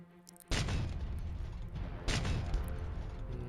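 A sentry turret deploys in the Templar Battleforce video game with a loud mechanical clank and a sustained grinding, ratcheting whir, then a second surge of machinery partway through.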